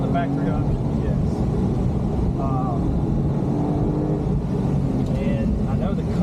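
A Porsche 911 riding on Michelin Pilot Sport 4S tires gives a steady engine drone and road rumble heard from inside the car, with people talking over it throughout.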